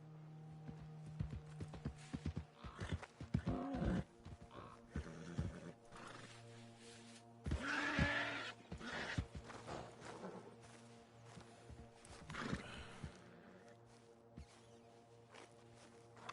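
Horses in the western video game Red Dead Redemption clip-clop on the ground in uneven bursts, with several loud whinnies and snorts rising above the hoofbeats before things settle into quieter, scattered steps.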